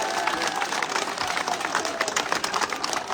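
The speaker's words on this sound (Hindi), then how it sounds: "एक बार तो जोरदार ताली बजाओ सभी नेताओं के सम्मान" A large crowd at an outdoor political rally claps loudly and continuously, a dense, slightly uneven patter of many hands with some voices mixed in.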